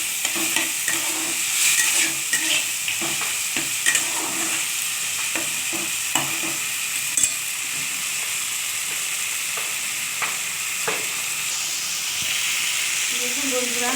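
Prepared spice masala hits hot oil in a frying pan for a cauliflower, potato and fish curry, setting off a steady, close sizzle and hiss with occasional stirring scrapes and no talking.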